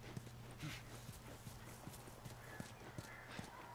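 A horse's hooves clip-clop in the video game The Last of Us, in a faint, regular run of hoof beats over a low steady background.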